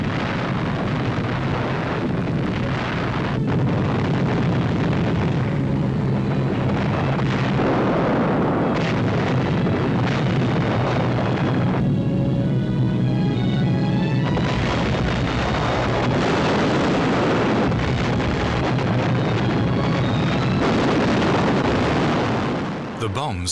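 Deep booms and rumbling blasts from 12,000-pound deep-penetration bombs falling on Hitler's Berghof mountain retreat in a WWII air raid roll continuously and loudly beneath a narrator's voice.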